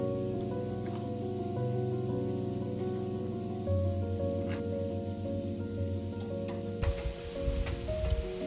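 Falafels frying in hot oil give a steady, soft, rain-like sizzle that runs continuously under background music, with a few louder clatters near the end.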